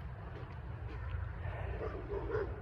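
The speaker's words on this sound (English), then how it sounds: "They're barking at these vehicles driving down the road." A few dogs bark and yip at vehicles driving past on a road during a walk, their fairly distant barks sitting over a constant low rumble of wind and traffic.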